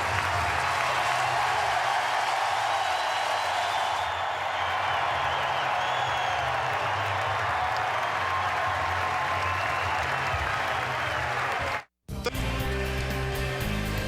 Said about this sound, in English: They are going to give Michael Roth one heck of an ovation.